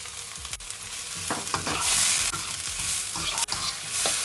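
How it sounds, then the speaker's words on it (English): Vegetables frying in a pan for leftover chicken fried rice, a loud close sizzle broken by scraping and clattering stirring strokes, with no talking. "I'm stirring it all together until the vegetables are soft."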